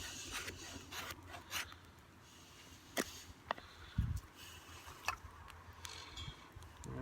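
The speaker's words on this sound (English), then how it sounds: "So I take off these amazing shavings." Knife carving shavings from the dry inner core of a wooden stick for a feather stick, heard as quiet, close scraping and rasping strokes with a few sharp ticks scattered through.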